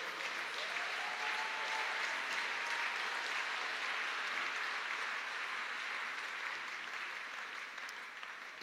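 A church congregation claps and cheers for the Lord during a Sunday worship service, a steady, dense wash of applause that holds for several seconds and fades slightly toward the end.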